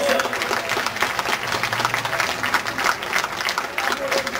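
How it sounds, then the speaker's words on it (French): Spectators at a French national track cycling championship applaud the winning junior team pursuit squad, lively clapping with an announcer's voice speaking over it in a reverberant velodrome. "sous vos applaudissements pour le nouveau comité champion de France"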